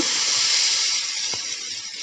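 Rice batter for chitoi pitha hits a hot pan with a steady, close hissing sizzle that holds evenly throughout, with one faint tap partway through.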